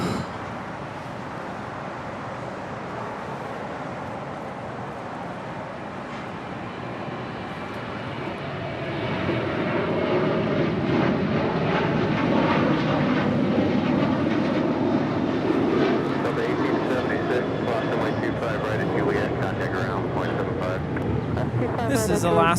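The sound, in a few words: Alaska Airlines Boeing 737-900ER jet departing LAX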